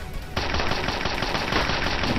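Dense, continuous automatic gunfire from the zombie survival shooter Dead Plague: Zombie Outbreak, a loud rapid stream of shots that begins abruptly and holds steady without pause.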